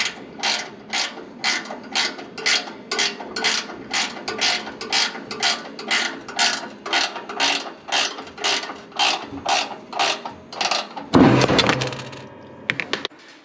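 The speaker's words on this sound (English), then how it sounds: "this is a ratchet wrench, so it's easier to get in there and on top of that bolt" A ratchet wrench loosens a bolt on a cast-iron gas log set in a regular series of about twenty quick clicking bursts, close and clear. A brief clatter of metal follows the last burst.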